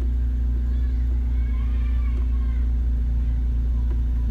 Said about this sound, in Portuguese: Vamos colocar na primeira. E vamos estar soltando a embreagem levemente